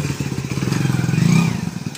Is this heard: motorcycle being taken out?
yes